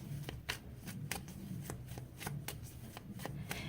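Tarot cards shuffled by hand, a steady run of crisp riffling snaps about every half second over a low background hum.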